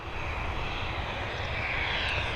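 Aircraft waiting on a taxiway at Dublin Airport give a continuous, even engine roar and whine, moderately loud and unbroken, with no voices.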